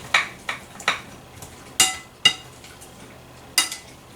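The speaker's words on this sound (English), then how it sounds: "And then we're going to give it a nice stir." A utensil stirs a tomato, mozzarella and balsamic mixture in a bowl, making about six sharp clinks at an uneven pace, close and clear with no talk.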